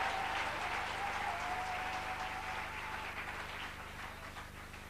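A church congregation applauds and cheers, a sustained wash of clapping with a few voices that fades slightly toward the end.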